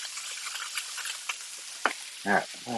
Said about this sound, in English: now that we got a good sizzle going